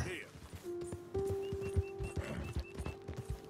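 Hoofbeats of a horse in Red Dead Redemption 2 clip-clop steadily under a sustained tonal hum and light game-like effects, with a voice speaking briefly.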